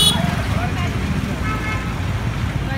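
Busy road traffic in the Indian city of Hisar, a steady low rumble of vehicles with scattered horn toots rising over it, heard close and continuous as voices talk nearby.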